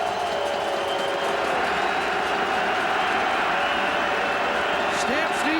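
Dense, continuous roar of a stadium crowd at a CFL football game between the Calgary Stampeders and Saskatchewan Roughriders, loud and unbroken, with a faint announcer voice underneath.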